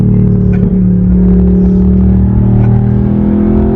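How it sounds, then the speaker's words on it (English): Yamaha R1M sport motorcycle engine running loud and close on a cold start, a deep steady rumbling drone with a rough growling edge, continuous throughout with no voices. "Sounds like a pissed off dragon."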